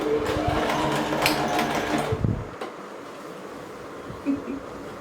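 A sewing machine stitches without thread in a rapid, buzzing mechanical whir that runs loud for about two seconds, then stops, leaving quiet room tone and a faint bump.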